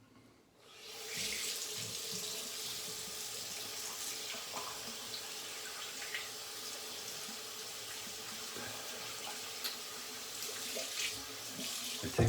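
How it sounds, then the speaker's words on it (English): Tap water runs steadily from a faucet into a sink while shaving lather is rinsed off, a continuous close splashing stream that holds for about eleven seconds after a quiet start. "It takes a bit longer to rinse off the lather."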